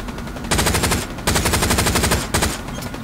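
Rapid machine-gun fire rattles in the World War II shooter Hell Let Loose, three loud close bursts of fast, evenly spaced shots separated by brief pauses.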